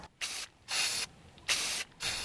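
Aerosol spray paint can for hydro dipping, heard as four separate hissing bursts, each about half a second long, with short silent gaps between them, close and steady.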